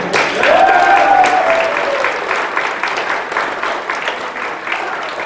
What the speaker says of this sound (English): A round of applause for Jen.